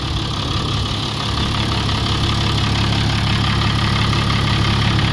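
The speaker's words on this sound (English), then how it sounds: "Tractor's running fine." A tractor engine runs steadily during field tillage, a loud continuous low drone close by with no break or talk.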